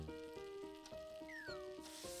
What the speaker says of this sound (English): Touch the icon to add ingredients and saute.